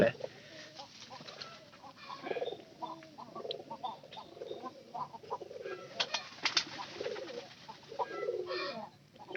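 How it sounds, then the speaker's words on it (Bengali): A hen close to laying eggs makes soft, low clucks and cooing murmurs, repeated in short irregular bursts at fairly low volume. "এরকম করতেছে কেন মুরগি"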